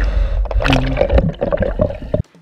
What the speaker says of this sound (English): you may end up with this little noise of the mask, because there's this little air bubble thing in the mask